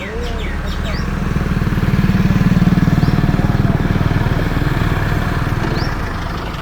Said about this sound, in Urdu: ہمارا پیارا کزن غلام یاسین صبح سویرے ٹریکٹر اور بلیڈ لے کے کام کے لیے جا رہے ہیں